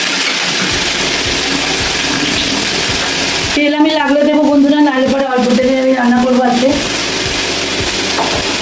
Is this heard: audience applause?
no